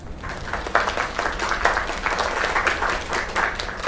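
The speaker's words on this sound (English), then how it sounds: "Another round of applause." An audience claps and cheers for a singer, a dense, even wash of applause that carries on steadily throughout without breaks.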